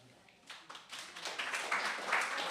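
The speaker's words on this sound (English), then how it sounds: "Give her a round of applause." A small audience at a community arts evening claps, starting as scattered taps and swelling into steady, fairly close applause that builds toward the end.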